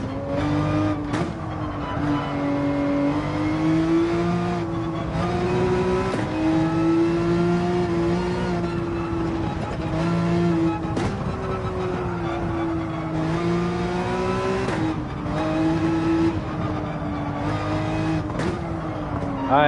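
A racing car's engine in Gran Turismo 7 revs loudly and steadily, with pitch climbing and falling through repeated gear shifts over a continuous drone.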